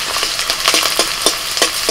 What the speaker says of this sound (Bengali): প্রথমে বিনসগুলোকে একটুখানি ভেজে নিচ্ছি।